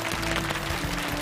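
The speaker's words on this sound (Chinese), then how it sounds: "掌声有请" Short burst of studio audience applause welcoming an expert guest onto a Chinese TV health talk show, dense and moderately loud.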